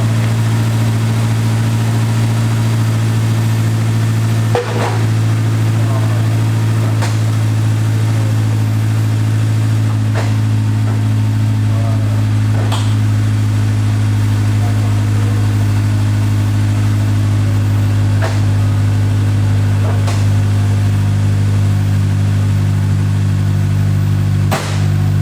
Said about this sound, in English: right when I started the car